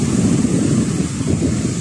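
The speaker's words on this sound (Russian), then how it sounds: "И сейчас я делюсь с вами этим шумом моря." Sea surf and strong wind at the shore in Anapa on a foggy day form a loud, continuous low roar with constant wind buffeting and no voices.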